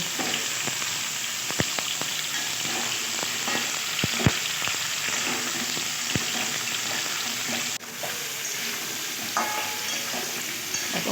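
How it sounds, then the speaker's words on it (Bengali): Pointed gourd and potato pieces fry in hot oil, a constant close sizzle broken by sharp clicks and scrapes of a utensil stirring the pan. "এবারে পটল আর আলুটা ভালো করে তেলের মধ্যে ভেজে নেব লাল লাল করে ভেজে নেবো"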